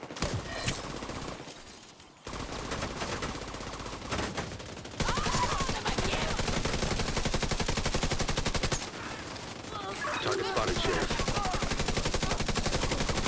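Rapid bursts of automatic gunfire rattle out in long strings, broken by short pauses and fading shots. The volume stays loud and steady across most of the stretch.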